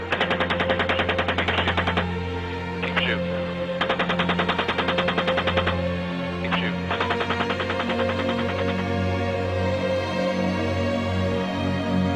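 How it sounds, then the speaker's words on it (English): Machine gun fire from a US military helicopter in Iraq, heard as repeated rapid bursts of shots over a constant low rotor and engine drone, with short pauses between the bursts. "We'll shoot. Light them all up. Come on, fire."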